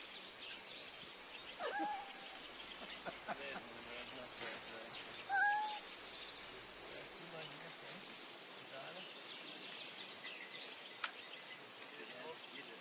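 Cats meowing in a circus setting, short cries around two and five seconds standing out over steady background noise, with faint chirps and voices mixed in.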